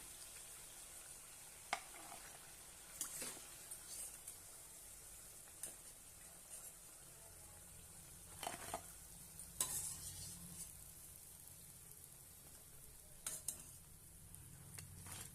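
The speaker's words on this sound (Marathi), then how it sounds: "अशा पद्धतीने आपण सर्व तळून घेऊया." Palak (spinach) mathri snacks deep frying in hot oil, a soft steady sizzle with occasional clinks and stirring taps from a utensil, fairly quiet and with no talking.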